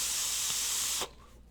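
Air drawn through an Asgard Mini 25mm RDA vape atomizer with the airflow wide open makes a soft, smooth, steady hiss that lasts about a second and then cuts off to near silence.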